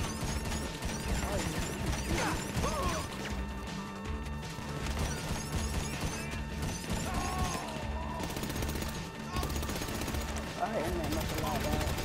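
Gunfire in GTA Online, rapid shots and mechanical clatter running continuously beneath people talking over each other.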